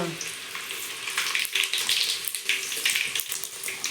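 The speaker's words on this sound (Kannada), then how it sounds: "ಎಣ್ಣೆ ಬೆಳ್ಳುಳ್ಳಿ ಜೀರಿ ಸಾಸ್ಮೆ ಹಾಕಿ ಈಗ ಕಡ್ಲೆ ಪುಡಿ ಮಾಡಕತ್ತಾರಿ" Garlic, cumin and mustard seeds frying in hot oil for a roasted gram powder, crackling in a loud, close, rippling sizzle with bursts of popping.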